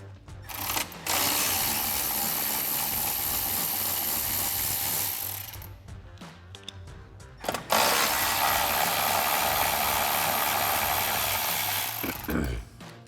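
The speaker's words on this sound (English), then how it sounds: "go ahead and remove a couple 10mm bolts using our 10mm socket on our ratchet" A ratchet with a 10mm socket loosens fender liner bolts on a Jeep Wrangler JK, producing two long bursts of rapid, continuous clicking with a short pause and a few separate clicks between them.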